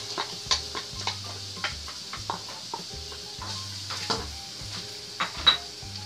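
Onion frying in olive oil in a pan, a soft sizzle under clinks and scrapes of utensils against cookware, with intermittent stirring knocks at close range and no talk.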